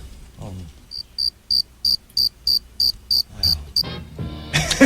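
Cricket chirps in about nine evenly spaced bursts, bright and fairly close, with low murmuring sounds beneath at the start and a louder noisy burst at the end.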